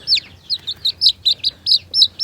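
Silkie chicks on a homestead give a run of about nine high, evenly spaced peeping chirps, close and clear against a quiet background.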